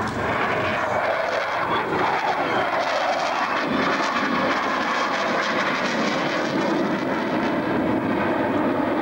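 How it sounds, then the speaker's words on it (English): A Hungarian Air Force MiG-29 jet fighter roars through a flying display at an airshow, a loud continuous broadband engine rumble and hiss that holds steady throughout, with no voices. "the end of the display of the MiG-29, the wonderful Hungarian MiG-29"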